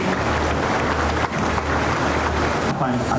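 Crowd applause for the Prime Minister at a groundbreaking ceremony for a longhouse housing project in Taman Bukit Kiara, Kuala Lumpur. Steady, dense clapping fills the space, loud and continuous, with a brief dip partway through.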